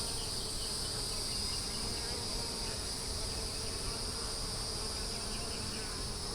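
Honey bees buzzing steadily around an opened hive with honey frames and drones, a dense continuous hum close by with no talk over it.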